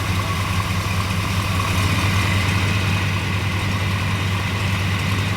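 A V8 engine idles in a steady, low, continuous rumble, close and loud with an even throb throughout and no voices.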